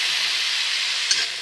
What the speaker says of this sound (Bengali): এবারে চিংড়ি মাছটা এর উপরে দিয়ে মিশিয়ে নিচ্ছি।